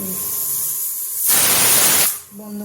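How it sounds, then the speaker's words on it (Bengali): A pressure cooker cooking elephant foot yam lets out a loud, close burst of hissing steam through its whistle for just under a second, between quieter stretches of kitchen background. "এখানে সিটি দিয়ে দিয়েছে কুকারে"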